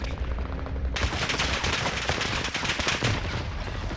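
Dense, loud video game gunfire in an online shooter, rapid bursts of automatic fire crackling continuously from about one second in, with no talk over it.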